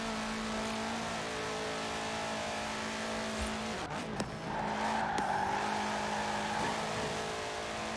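A turbocharged race car engine in Forza Horizon 4 drones steadily at high revs with a brief tire squeal midway, the engine pitch rising afterward as it accelerates.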